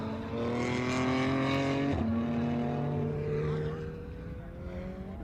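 GT race cars lap Sonoma Raceway during a GT America race. A droning engine note swells, drops sharply in pitch as a car passes, then fades gradually into the distance.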